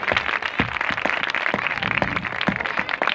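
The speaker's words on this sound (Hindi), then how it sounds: "जोरदार तालियां बजाएं यीशु के जलाल के लिए" A congregation at a Christian worship service claps loudly and steadily, the dense hand claps filling the whole stretch with no voices over them.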